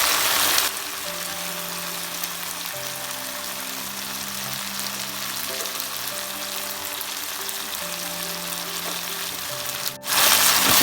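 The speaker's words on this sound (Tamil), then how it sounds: "உப்பு போட்டதுக்கப்புறம் நல்லா வதக்கிக்கோங்க." Onion, tomato and ginger garlic paste with salt sautéing in a pan gives a constant loud sizzle and frying hiss, stirred now and then, that cuts out abruptly near the end and quickly resumes, with no voices.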